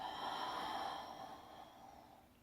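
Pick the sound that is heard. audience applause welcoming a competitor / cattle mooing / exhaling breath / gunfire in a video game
exhaling breath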